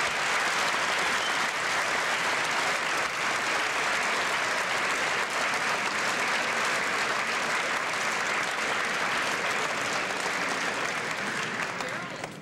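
Sustained applause fills a Covington County school ceremony honoring ninth-grade student Cheryl Gardner for her grades, a dense, even roar of many clapping hands that continues steadily throughout.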